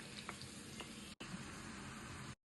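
Onions frying in hot oil with garlic, ginger and green chillies, a steady close sizzle that runs unbroken, cuts out for a moment, then resumes before stopping abruptly.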